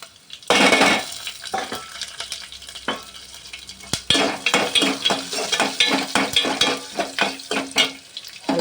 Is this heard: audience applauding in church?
no